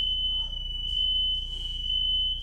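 Household smoke alarm going off: a steady, piercing high-pitched tone that sounds continuously and loudly, with no talking.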